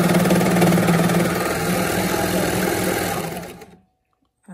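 A sewing machine running a straight stitch on sports bra fabric, a close, steady whirring hum with fast rhythmic needle ticking that runs continuously, then stops abruptly near the end, leaving silence.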